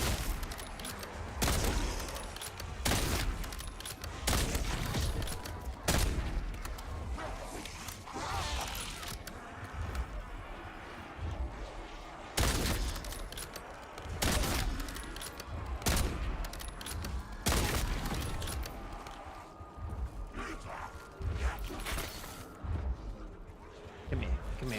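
Rapid gunfire from a zombies video game crackles in repeated volleys at a low overall level, with a player talking over the shooting.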